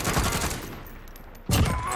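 A short burst of video game gunfire that fades out, then a sharp loud shot or new volley near the end, close-up.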